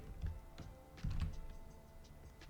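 Computer keyboard keys are tapped in a short, quiet burst of several close clicks, with a couple of heavier thunks among lighter ticks and no talking.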